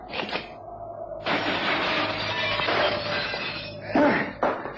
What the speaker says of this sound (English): I'm going to simply jump through the glass